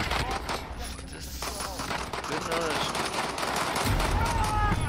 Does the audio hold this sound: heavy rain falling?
no